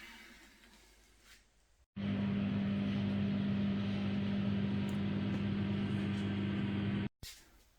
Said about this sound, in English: I have put the beef brisket in the microwave